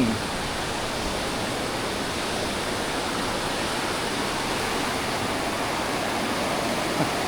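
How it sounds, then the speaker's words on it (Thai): Loud, steady roar of Tham Phra waterfall in Bueng Kan, Thailand, flowing strongly, dense rushing water filling the whole clip with no break. "น้ำตก"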